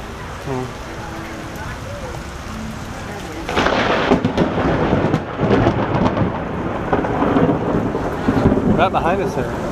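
At Disney Springs in a thunderstorm, rain patters steadily until a loud, close crack of thunder breaks in and rolls on heavily over the downpour, with voices faintly present.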